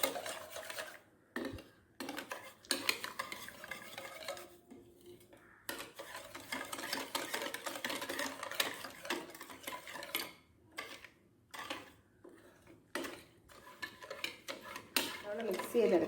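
A whisk beats a cornflour mixture in a bowl for a chocolate mousse cake, giving close, busy rhythmic clinks and scraping in quick bursts with brief pauses, fairly loud throughout.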